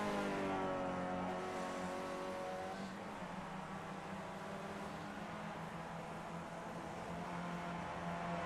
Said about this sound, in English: You hear the engine rev up as he's turning to the left there. That's the tire spinning.